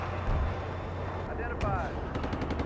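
Incoming gunfire in a combat video game rattles out in bursts of sharp cracks amid a low battle rumble, with a player's voice speaking over the shooting.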